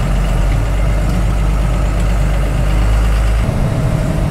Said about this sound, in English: It's idling a lot higher, which makes me feel like maybe fuel's flowing better